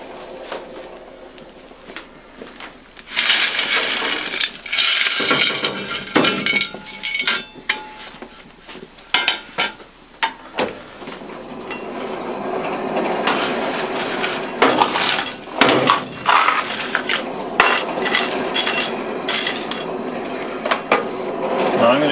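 Raw coal is shoveled into a blacksmith's forge fire pot, with repeated scraping, clinking scoops and rattling lumps landing, coming in irregular bursts that grow denser after a quieter start.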